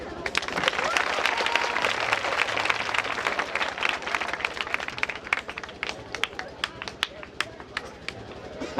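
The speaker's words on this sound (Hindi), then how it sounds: "जोरदार ताली" A theatre festival audience applauds loudly, dense rapid clapping that thins into scattered, sharper claps toward the end.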